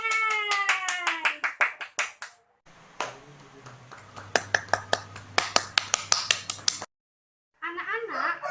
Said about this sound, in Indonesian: beri tepuk tangan yang meriah untuk kalian semua